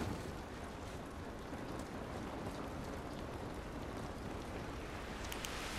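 Steady, even rain in The Last of Us Remastered, in a city downtown area, a constant broadband hiss at moderate level with no distinct drops or thunder and no talk.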